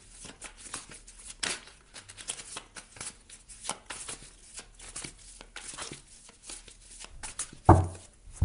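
Tarot cards being shuffled for a five-card spread, quick riffling and sliding card sounds in irregular bursts, close and fairly soft, with a louder knock near the end.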